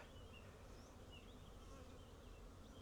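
Bees buzz steadily around beehives in spring, a faint continuous hum of several insects flying around with no talking.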